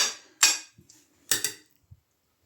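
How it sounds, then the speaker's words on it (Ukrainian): A utensil clinks against a bowl while beet salad with cheese is stirred: two sharp scraping clatters about a second apart, each with a few soft knocks after, close and clear with no talking. "Я гарно розмішаю, спробую"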